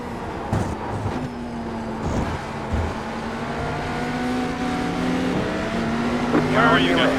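Race cars from iRacing, including the Cadillac, howl past in an endurance race, engine whines rising and falling with passing bursts and gear changes, a voice talking over the racing sound.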